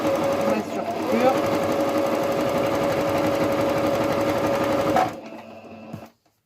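A sewing machine topstitches a fabric face mask, running steadily and close for about five seconds before stopping abruptly, with a few faint handling sounds after.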